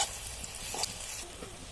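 Fish chops sizzle in a shallow layer of oil in a pan, a steady close crackle with light stirring scrapes, no voices.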